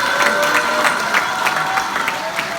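An audience at a political debate forum on uniting conservatives in South Korea applauds steadily, a dense continuous wash of clapping with some crowd noise and a voice faintly under it.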